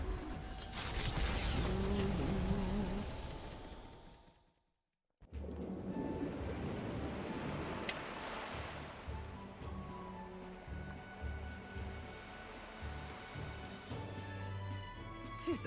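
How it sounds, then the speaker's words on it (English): Ship sailing through ocean waves in the fantasy game Metaphor: ReFantazio: a broad rushing surge of water and creaking mechanical hull noise, dropping briefly to silence near the middle, then continuing with steady churning and rhythmic machinery. "I'll get us through these waves to Verga Island gently as can be."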